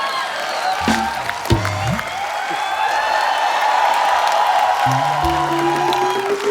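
Studio audience applause on The Kapil Sharma Show, a broad sustained wash of clapping and crowd noise with a few low voice fragments, fairly loud throughout.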